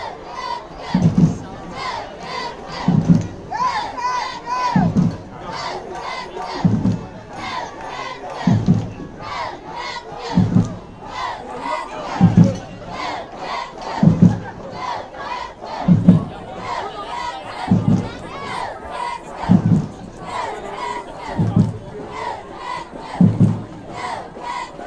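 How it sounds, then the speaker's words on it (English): Football crowd at a high school game between Carrizo Springs and Manor Tech, chanting in a steady rhythmic pattern with loud regular shouted beats roughly every two seconds, sustained throughout. "the crowd not giving up on that touchdown"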